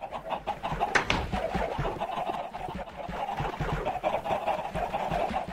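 Chickens packed into a grid of cells in Minecraft, a dense, steady murmur of many clucks and fowl calls overlapping at moderate level, continuous with no talk.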